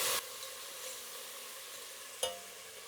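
Tomato added to frying onion in a pan, a steady faint sizzle with a sharp splash of ingredients dropping in at the start and a brief clatter partway through.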